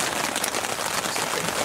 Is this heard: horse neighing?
no